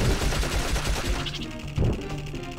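Gunfire from the Dark Cloud video game: a quick rattling burst of shots, loud and dense at first, then a sharper blast near the end.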